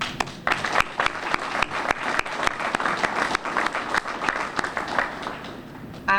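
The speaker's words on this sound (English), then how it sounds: "I would like you all to give yourself a round of applause" A community crowd at a sledgehammer ceremony applauds itself with close, crisp individual claps that pop out irregularly from a thick, steady round of applause lasting several seconds.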